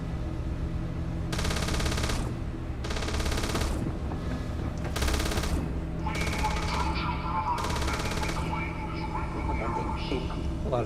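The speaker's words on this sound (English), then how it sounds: "A lot of shooting going on that I'm not doing." Sci-fi combat in Starfield against the Terran Armada: loud automatic gunfire erupts in five sustained bursts of a second or more, separated by short pauses, over a constant low rumble, with someone speaking between volleys.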